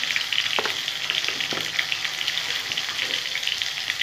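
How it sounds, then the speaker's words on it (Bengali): Potatoes fry in a pan with a close, crackling sizzle, broken by a few sharp clacks of a spatula stirring against the metal, and no one speaking. "ভালো করে এখন আমি আলুটা ভেজে নেব"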